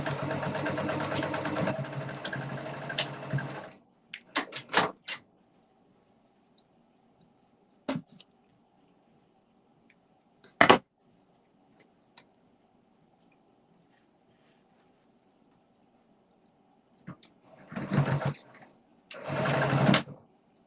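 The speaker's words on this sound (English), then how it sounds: "I'm closing up the side as I stitch the elastic" A sewing machine stitching elastic into an embroidered fabric mask, a dense rapid whir in close bursts, first a longer run then short spurts and pauses, with quiet gaps between.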